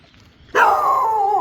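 A dog in a rural Thai village lets out a single loud, close bark that stretches into a drawn-out whining howl after a quiet moment.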